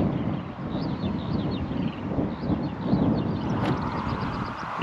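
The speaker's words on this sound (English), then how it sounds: "it's very, very windy" Strong gusting wind on an open hillside at Avebury buffeting the microphone, a loud rumbling roar that surges and eases without pause, with faint higher warbling sounds drifting faintly underneath.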